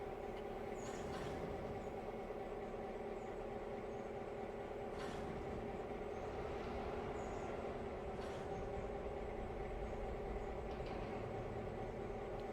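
A diesel locomotive in the railroad simulation Railroader rumbles steadily with a constant engine drone and faint periodic clanks, heard alone without talk.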